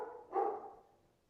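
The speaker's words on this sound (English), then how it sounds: "Oh my God, is there a dog?" A single short dog bark, fairly close and moderately loud, rises out of quiet room tone and fades quickly without any talk.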